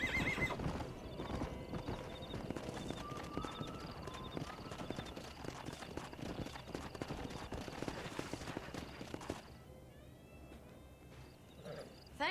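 Horses in the Red Dead Redemption video game gallop with steady, dense clip-clopping hooves, accompanied by whinnies and neighs and a busy game soundscape, easing off toward the end.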